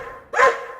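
A single sharp bark from a dog, close and fairly loud, rising out of a quiet background and fading quickly.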